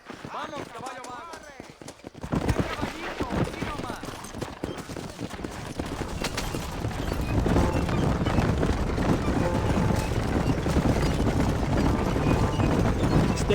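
Hooves clip-clop at a gallop in Red Dead Redemption, a steady rapid drumming that grows louder and denser partway through, mixed with wind and game ambience while voices talk over it.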